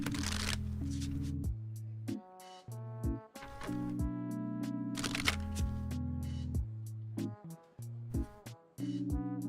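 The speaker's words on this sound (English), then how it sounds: "this is the only shuffle I know how to do." Tarot cards being shuffled by hand, repeated crisp riffling bursts close to the microphone, alternating with pauses, over soft background music.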